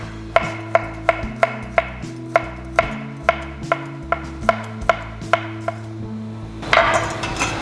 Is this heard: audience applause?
no